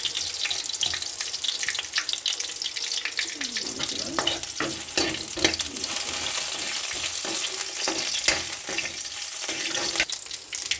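Tamarind and cumin fry in a pan for a peanut chutney, a steady close sizzle with stirring scrapes and clinks throughout.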